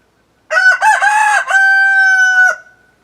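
A young rooster crows a full cock-a-doodle-doo, close and loud, with a stuttering start and then a long sustained high note that cuts off sharply.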